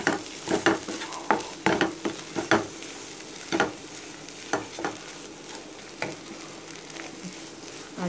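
Potato masiyal being stirred with salt in a pan, a spoon scraping and thumping in irregular bursts over a quiet background, close and clear with no talking.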